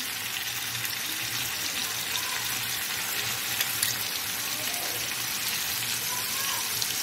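Yogurt goes little by little into masala frying on a tawa for Lahori chicken roast, giving a dense, steady sizzle and hiss that barely changes from start to end.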